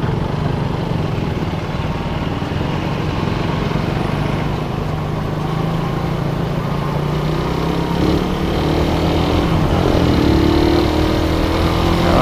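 Nighttime traffic jam in Aceh Barat on the eve of Eid al-Adha, with cars and motorcycles idling and revving nearby, a continuous dense engine drone with rising revs toward the end.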